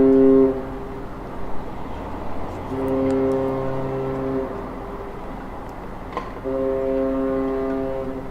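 A large cruise ship's deep horn sounds three long blasts as it reverses away from the dock at the Port of Southampton, loud and echoing across open water, with harbour noise between the blasts.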